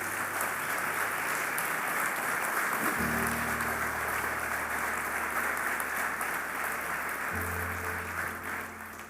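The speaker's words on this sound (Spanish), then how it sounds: "Le damos un aplauso al Señor" Sustained applause from a church congregation fills the whole stretch, steady and fairly loud, with a low hum underneath.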